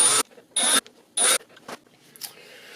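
A drill with a 1/8 inch bit bores into epoxied areas of an airsoft IR aiming laser housing in three short, loud whirring bursts, followed by faint scraping.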